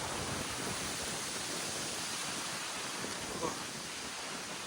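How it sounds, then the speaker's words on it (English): Breezy wind sweeps over a mountain viewpoint on the Appalachian Trail, a soft, steady broadband rush buffeting the microphone with one small gust near the end. "It's a little breezy"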